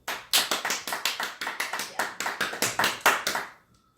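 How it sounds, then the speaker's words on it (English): Rhythmic clapping from a small audience honoring a mother graduating cum laude, steady sharp claps for about three and a half seconds before stopping, with no talk over it. "Let's give Mom a round of applause."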